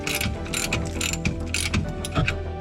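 A ratchet wrench turning a rusted 14mm bolt on the rear anti-roll bar end link of a 2010 Mazda 6, giving a quick series of close, crisp ratcheting clicks in short uneven bursts.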